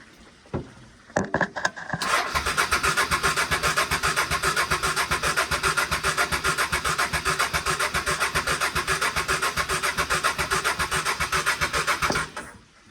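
Honda Deauville 650 motorcycle engine cranks on a weak battery, a few hesitant clicks and then a long, steady, laboured starter churn of rapid regular pulses that stops abruptly, close and loud.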